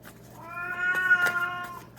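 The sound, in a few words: cat meowing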